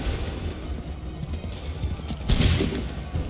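A musket volley in Assassin's Creed III crackles through a muffled battle scene, with a sharp burst of massed gunfire near the middle over a low rumble. No voices are heard.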